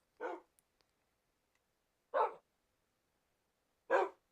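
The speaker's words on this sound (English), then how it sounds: "the dogs are a little obnoxious" Dogs barking in the Tekkit modpack for Minecraft: three short, separate barks spaced about two seconds apart, clear and close against near silence.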